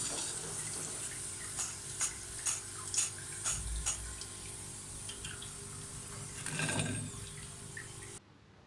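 Potato finger chips fry in hot oil, a dense continuous sizzle with rapid crackling pops and brief bubbling bursts, close and fairly loud, with no talking.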